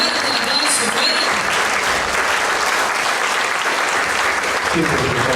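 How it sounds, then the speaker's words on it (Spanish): Loud, sustained applause from a congregation gathered at a church retreat, many hands clapping in a continuous close wash with no talk over it. "Fuerte el aplauso, fuerte."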